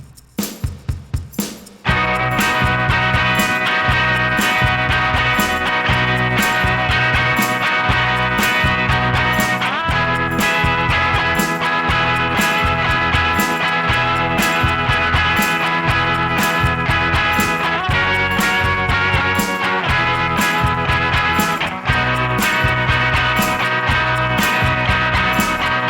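A guitar plays a steady, strummed 12-bar rhythm part with a repeating chord pattern, loud and continuous after a brief pause at the start.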